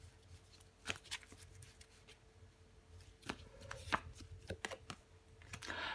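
A tarot card, the five of wands, is laid down over another card on a table. Several soft papery taps and slides sound close and faint, scattered over a few seconds with no talking.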